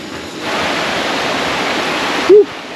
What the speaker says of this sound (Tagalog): Naririnig ko na yung agos ng tubig.